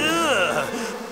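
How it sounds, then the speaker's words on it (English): Bees buzz from a beehive in a jungle cartoon: a loud, continuous buzzing drone whose pitch swoops and wavers, heard alone for about a second. "That's a beehive!"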